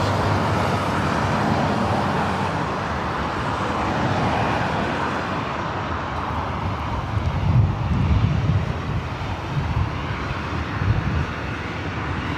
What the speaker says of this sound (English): Our next arrival coming in from SFO, Delta Airlines Flight 1364